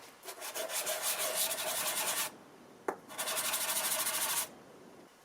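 Two long strokes of steady, hissing sanding on a Yamaha RZ350 fuel petcock, broken by a brief knock between them, close and without speech.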